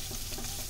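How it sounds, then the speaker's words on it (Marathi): Khoya, milk solids, being sautéed in a pan over very low heat for shahi kheer, giving a soft, steady sizzle with light stirring, close and continuous for a brief moment with no talking. "अगदी बारीक गॅस करून फक्त 1 मिनिटच आता आपल्याला परतून घ्यायचंय।"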